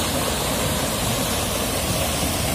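A river rushes with a steady, loud broadband roar of flowing water, continuous and close, with no voices.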